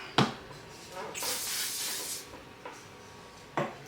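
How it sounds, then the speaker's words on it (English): Mouth spray in The Sims gives one steady hissing burst of about a second between soft clicks, heard close and fairly quiet. "Do not open your mouth and spray that."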